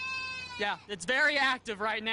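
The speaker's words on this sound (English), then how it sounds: "The goats is really upset, if you can hear it in the background." A goat kid, separated from its mother for the first time, bleats in a wavering, harmonic cry at the start, then someone speaks over the background.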